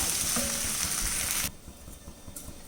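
Cooked rice and fried chicken tossed together in a hot pan, a bright continuous sizzle with scraping stirs that drops to a quieter crackle partway through.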